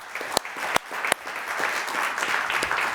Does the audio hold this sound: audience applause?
yes